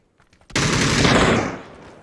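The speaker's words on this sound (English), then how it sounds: "Someone's shooting down here." A burst of rapid automatic gunfire from the battle royale game PUBG starts abruptly after a short quiet moment. It rattles loudly for about a second, then fades into a short echoing tail.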